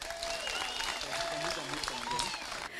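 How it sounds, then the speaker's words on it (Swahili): Crowd applause at a political rally in Magarini, a dense steady clapping that holds at an even level for its whole length, with voices and cheers mixed into it. "Pigieni makofi."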